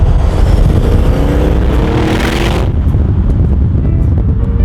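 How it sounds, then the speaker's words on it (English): A Bentley Continental V8 S in Concours Series Black revs hard, a loud, dense engine roar building for about two and a half seconds before dropping to a lower, steadier idle-like rumble. "Sounds like a real V8."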